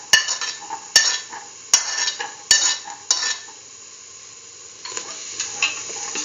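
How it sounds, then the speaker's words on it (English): Green peas being stirred into other ingredients in a pan for chayote and green pea rice, a few sharp utensil scrapes and knocks over a soft sizzle, then quieter stirring toward the end, with no voices. "Mix in the green peas with the rest of the ingredients."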